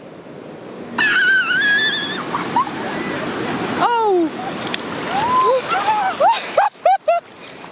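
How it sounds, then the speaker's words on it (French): Huge ocean waves at Piha Beach: a loud, continuous roar of breaking surf that swells and crashes, with people talking and exclaiming over it. "Ouais, mais vraiment, les vagues, elles sont énormes"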